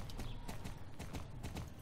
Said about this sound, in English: I almost forgot how it felt to watch a horse jump so gracefully